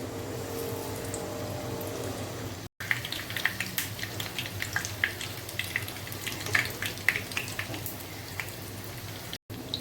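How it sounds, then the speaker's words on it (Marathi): Chili bhaji fritters fry in hot oil with a steady, fine crackling sizzle that runs continuously, close and moderately loud, with small pops scattered throughout and no talking. "दोन्ही साइडने गोल्डन कलर येईपर्यंत अशी फ्राय करून घ्यायची आहे।"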